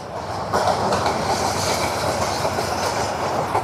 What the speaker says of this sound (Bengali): আরে ট্রেন যাইতেছে বামে দিয়ে